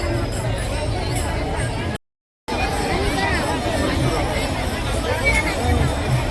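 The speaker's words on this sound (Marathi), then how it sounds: "फार गर्दी आहे यावेळेस" A dense crowd of pilgrims at the Sant Dnyaneshwar Maharaj Palkhi procession on the Ashadhi Wari walk from Alandi to Pune fills the air with steady, loud hubbub and overlapping chatter, broken by one short silent gap.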